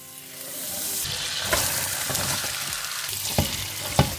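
Butter hitting a hot pan for fried rice, a dense sizzle swelling up after a quiet start and holding steady, with a few sharp clinks and scrapes of a utensil.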